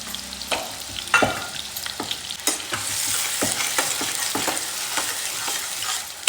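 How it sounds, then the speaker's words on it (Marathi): Onion fries in hot oil in a kadhai, a steady close sizzle broken by repeated scraping and clattering strokes of a spatula as it is stirred, with no voices. "आता आपण कांदा टाकणार आहे तर कांदा चांगला फ्राय करून घ्यायचा एकदम लालसर"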